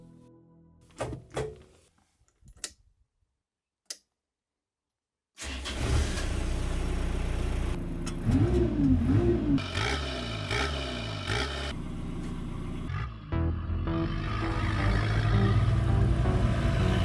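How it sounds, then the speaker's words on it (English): ATV KHAN articulated offroader with skid steering, its engine running steadily and rising as it drives and turns around, after a few sharp knocks and a quiet gap at the start. "Now we see the machine turning around with skid steering."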